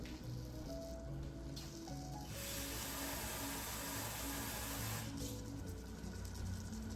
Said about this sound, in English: All right, so I'm starting to sizzle there